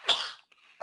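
A single sharp sneeze bursts out close by, loud and breathy, then fades into a brief quiet before a short follow-up breath or sound at the end.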